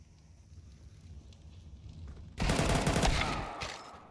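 Gunfire in a Counter-Strike 2 match: after a quiet stretch, a sudden loud burst of rapid automatic shots rattles out for about a second and then trails off.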